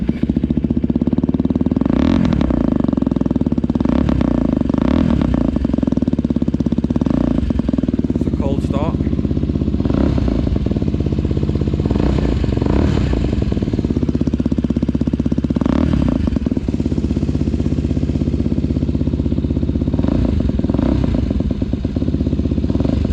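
Lexmoto LXR motorcycle engine running at idle after starting, a loud steady mid-pitched rumble with rhythmic clatter throughout, briefly blipped, with no talk over it.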